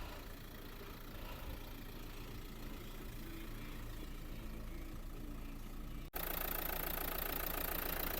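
A 2013 Renault Scenic engine idling steadily, heard up close under the open hood, with a smooth, even rumble and faint knocking; partway through the sound abruptly shifts louder and brighter.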